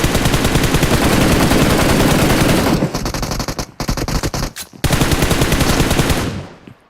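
Sustained automatic gunfire from a PUBG Mobile match, loud and dense rapid bursts that keep going, briefly broken by short gaps before resuming and then trailing off.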